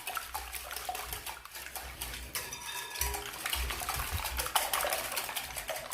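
A utensil stirs cake batter with salt and sugar in a bowl, giving a steady wet swishing broken by clinks and scrapes against the sides, close up with nobody talking.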